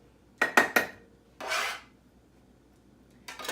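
A utensil scrapes and clinks in a pan while shrimp taco ingredients with jalapeno, onion, tomato, garlic and lemon get stirred: three quick metallic taps, a longer scrape, then another brief clatter, close and fairly quiet.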